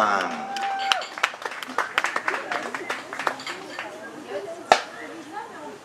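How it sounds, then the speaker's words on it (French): Spectators clap at an outdoor show jumping prize ceremony at an international competition in Le Mans, scattered sharp hand claps spread across the crowd beneath an announcer speaking over a loudspeaker. "nous allons féliciter et bien sûr applaudir Alexandre Hendricks."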